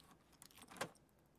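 Keys jangle in the video game Escape from Tarkov, a short quiet metallic rattle with one brighter clink near the end, heard alone against low background.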